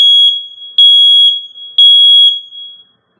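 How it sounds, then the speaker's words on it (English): A Nest smoke alarm sounds during a smoke test, three loud, piercing electronic beeps at a steady pace, each held for about half a second before fading into silence. "Testing smoke."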